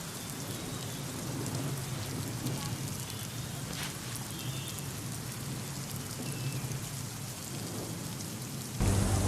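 Heavy monsoon rain pours down in Mumbai, a dense, constant hiss of drops on surfaces with no pause, and the level jumps slightly louder right at the end.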